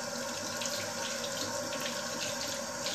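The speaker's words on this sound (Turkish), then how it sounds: "Ellerimi yıkayayım." A tap runs steadily while hands are washed under it, producing a quiet, even stream of water with no talking.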